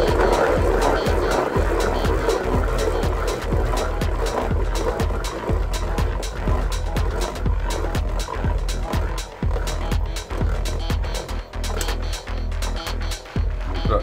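A Beyblade Burst GT Master Diabolos top whirs and rattles in a plastic stadium, with a loud continuous spinning drone and rapid clattering knocks.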